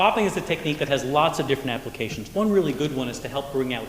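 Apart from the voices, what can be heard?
None of the usual background noises is heard.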